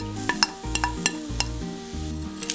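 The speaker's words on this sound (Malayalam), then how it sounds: "ഇനി ഇത് നന്നായിട്ട് എല്ലാം കൂടെ നന്നായിട്ട് യോജിപ്പിക്കണം കേട്ടോ" A spiced potato filling with garam masala, fennel powder and coriander leaves for stuffed chapati is mixed in a pan with repeated close spoon scrapes and knocks over a soft sizzle.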